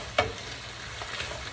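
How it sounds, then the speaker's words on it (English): Bok choy tossed in a hot wok with a soy, sesame oil and hot sauce slurry, giving one sharp clatter at the start and then soft, steady frying hiss with light stirring. "we're gonna give it a quick toss"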